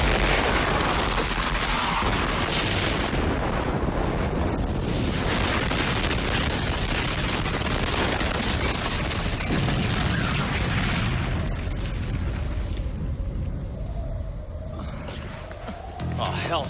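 Gunfire and explosions in a dubbed anime battle scene, a dense, continuous roar of booms and volleys that stays loud for most of the stretch, easing slightly toward the end.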